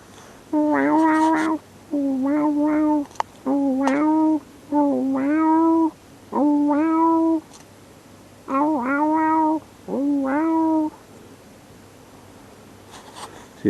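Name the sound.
human imitating a cat meowing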